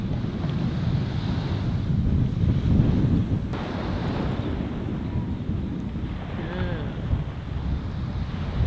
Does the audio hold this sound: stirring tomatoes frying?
no